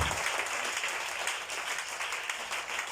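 A church congregation applauding and cheering in praise, a dense, steady roar of clapping and voices filling the hall for the whole stretch.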